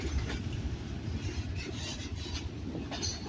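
A freight train rolls past steadily at moderate distance near McCormick, South Carolina, a continuous low rumble with faint wheel clatter and light squeals, no voices.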